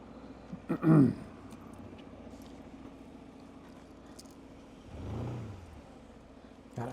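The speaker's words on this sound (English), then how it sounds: "God, I thought that car was going to hit me." A car passes close by on a Tokyo street, a short rushing swell of engine and tire noise that rises and fades over a couple of seconds, heard over a low steady background hum.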